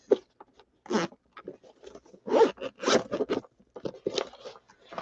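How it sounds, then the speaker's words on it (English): Zipper on a pen case being pulled open in several short scratchy bursts with pauses between, close and clear, with small handling rustles. "where is the zipper on this thing?"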